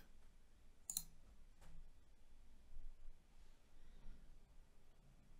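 Mouse clicks while a new Unity project is created on a computer, a sharp close click near the start followed by a fainter second click against quiet room hiss.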